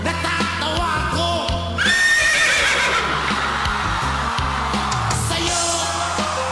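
A man imitates a horse with his voice, giving repeated loud, close neighs and whinnies and snorting breaths in a rapid run. The crowd noise of a talent show stage sits underneath.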